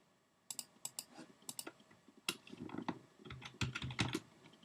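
Keys clack on a computer keyboard in irregular bursts of quick taps with short pauses, close and crisp, with no talking.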